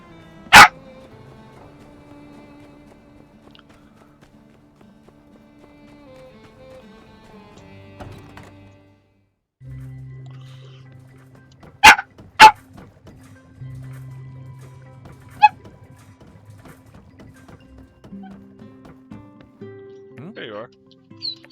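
A dog in a video game barks in a few sharp, isolated yelps amid quiet game ambience and soft background tones, with a person talking at times.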